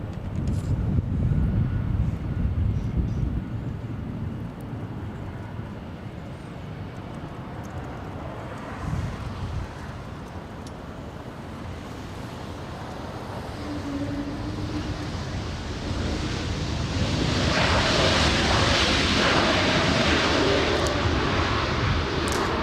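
A Delta airliner, arriving from Salt Lake City, comes in to land at LAX, a broad jet roar rumbling through the wind, growing louder and brighter toward the end as it draws close.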